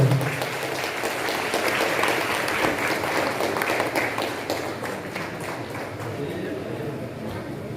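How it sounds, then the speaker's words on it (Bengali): An audience claps in front of a fair stage during a lamp-lighting opening ceremony, steady scattered applause under a voice talking over a loudspeaker. "করতালি দিয়ে অভিবাদন করার জন্য"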